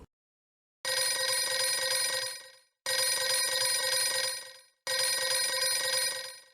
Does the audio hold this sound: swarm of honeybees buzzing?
no